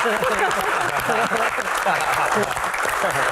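Steady applause from a studio audience at a Q&A comedy show runs the whole time, with a voice speaking loudly over the clapping.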